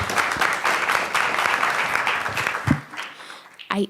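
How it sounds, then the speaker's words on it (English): Applause from a crowd at a student government senate meeting, a dense steady clatter of many hands that tapers off near the end, followed by a short burst of sound. "let's give a big round of applause"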